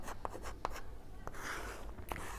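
Pen or pencil strokes on paper while working a Class 10 maths problem, a few short scratchy bursts close by over a quiet background, with no talking.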